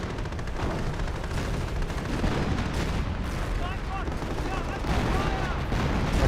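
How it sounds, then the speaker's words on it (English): Artillery shells pound a bunker in Company of Heroes, a dense, continuous rumble of blasts and gunfire that holds steady and loud throughout, with a few faint whistling tones above the barrage. "Artillery running in on that bunker"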